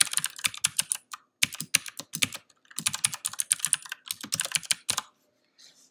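A computer keyboard clatters close up as HTML code is typed, bursts of rapid keystrokes separated by short pauses, ending in near silence with a few faint taps.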